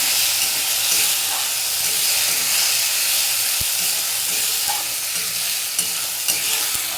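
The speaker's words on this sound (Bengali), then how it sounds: "এই মশলাটা কষা হোক ততক্ষণে" Spice paste fries in a pan for a fish curry, making a loud, continuous sizzle and hiss with a few faint clicks of stirring and no talking.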